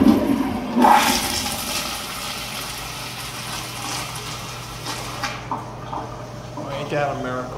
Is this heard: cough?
no